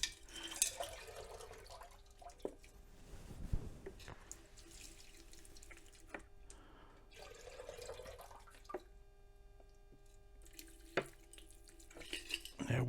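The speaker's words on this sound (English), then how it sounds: "Let's rinse this off with a little distilled water." Distilled water rinses over gold during refining, a running, splashing pour into a vessel with a few drips and clinks at moderate level, no talk over it.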